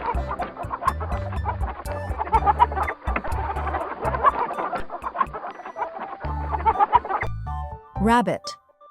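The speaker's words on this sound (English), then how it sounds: "Hen." A hen clucks busily up close in a run of short, choppy calls that pause briefly and resume, ending in a higher squawk.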